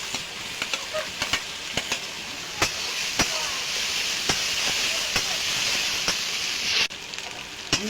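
Onion and garlic paste fry in hot oil for a home-style country chicken curry, a steady sizzling hiss with repeated sharp clicks of a spoon stirring against the pot.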